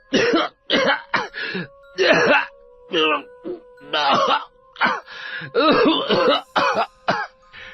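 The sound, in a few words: coughing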